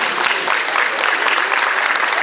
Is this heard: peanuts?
no